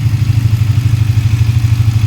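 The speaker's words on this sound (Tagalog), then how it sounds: "Parang may tumutunog sa head dahil siguro yan sa doon banda sa timing chain." A Suzuki GSX 150 motorcycle engine idles close by with a steady, rapid ticking clatter from the timing chain at the cylinder head, after about 60,000 km of use, heard alone.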